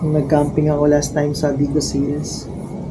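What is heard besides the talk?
No everyday noise stands out behind the speech.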